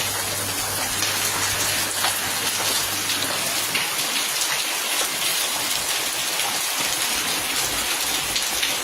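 Light rain falls in a steady, dense hiss of drops pattering on surfaces close by, with no talking.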